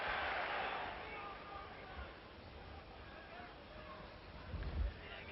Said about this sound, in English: And how the crowd are loving it.